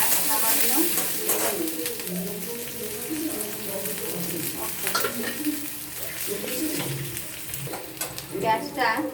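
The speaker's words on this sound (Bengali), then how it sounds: "তেলটা গরম হয়ে গেলে পেঁয়াজ কুচিটা দিয়ে দেব।" Chopped onion fries in hot oil while being stirred, sizzling with repeated utensil scrapes as a voice talks over it and birds coo in the background.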